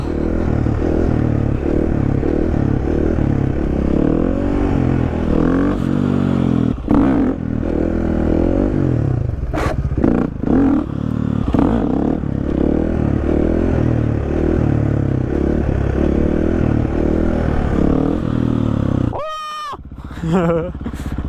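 A motorcycle engine revs and drones loudly and steadily during wheelie practice, with repeated throttle rises and falls, some clattering and a brief whine near the end.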